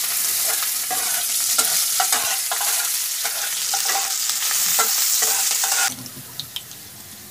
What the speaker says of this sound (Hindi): चीनी अच्छी तरह से भुनेंगे।